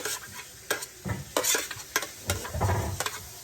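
Chopped onions sauté in a pan, a low sizzle under repeated scraping stirs that come in uneven bursts, close and fairly loud.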